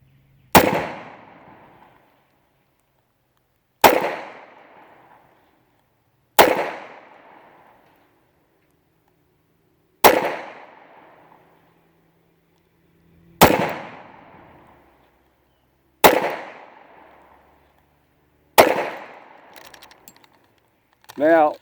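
Seven sharp, loud pistol shots from a Kimber Ultra Carry II compact 1911 in .45, fired singly at a steady pace a few seconds apart. Each crack rings out and decays in the silence between shots.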